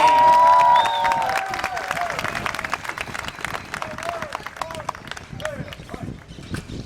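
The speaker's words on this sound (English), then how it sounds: "How about a round of applause for our ladder bang out team?" A crowd at a Miami fire academy graduation applauds and cheers for the ladder bang-out team, loud and sustained, with an announcer's voice over the top.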